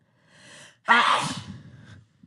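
A single loud sneeze up close, preceded by a short sharp inhale, then a trailing breathy exhale and fading noise.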